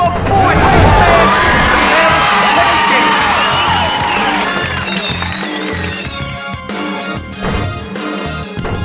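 A loud, steady crowd roar and cheering from the NBA Ballers basketball video game, with whoops and shouts over thumping in-game impacts and faint background voices.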